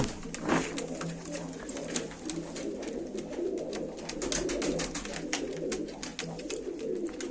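Pigeons coo repeatedly at a live pigeon auction, soft rolling calls over a steady background murmur, joined by frequent sharp clicks and taps throughout.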